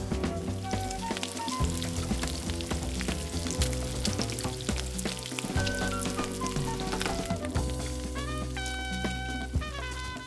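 Italian sausage frying in a pan over softened onions, a continuous sizzle with crackles that is partly masked by steady background music, with no speech.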